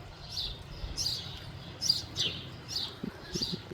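Small birds chirp in a garden, giving about five short, high, bright calls at roughly even intervals. They sound faint and somewhat distant over quiet background noise.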